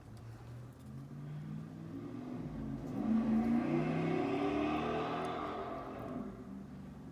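A loud car engine outside revs up and passes by, swelling to a peak in the middle and fading away, heard from indoors with no talking.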